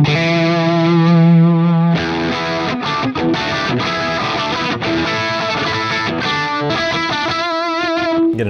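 Electric guitar chords played through a Friedman BE-100 amp plugin, with sustained distorted strums changing roughly every second and a brighter, modulated shimmer near the end, heard alone with no talking.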